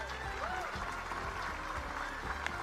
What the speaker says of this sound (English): I don't need your clapping.